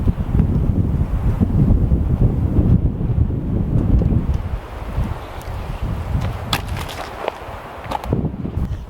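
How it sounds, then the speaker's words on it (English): Strong icy wind gusting across an open campsite on an Oregon overland trip, a loud continuous roar buffeting the microphone that eases slightly midway, with a few faint clicks and rustles near the end. "that wind would just not let up, and man, it had an icy bite to it"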